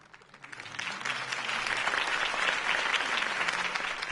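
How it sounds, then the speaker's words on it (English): Applause from a large crowd in a Batman video game swells in within the first second and holds steady and loud, a dense wash of clapping with no voices standing out. "could have heard that applause"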